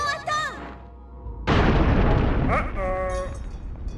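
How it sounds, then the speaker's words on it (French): In the video game Sly 3, a single loud cannon blast booms out in the middle, between stretches of game voices talking before and after it. "Boulet de canon."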